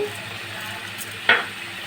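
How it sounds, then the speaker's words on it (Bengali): Spice paste frying and being stirred in a pan for Rui fish curry, a steady soft sizzle with one brief sharper scrape or spatter near the end. "এই পেস্টটা দেওয়ার পরেও কিন্তু 2-3 মিনিট মতো ভালো করে কষিয়ে নিতে হবে"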